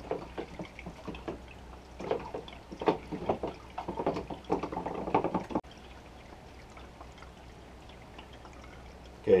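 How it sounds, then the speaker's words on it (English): Stirring nutrients and Epsom salt into a container of water for a Kratky hydroponic cucumber setup, giving a run of quiet sloshing, swishing pulses for about five seconds, then a calmer low trickle with no talking. "And then I will now stir it all up."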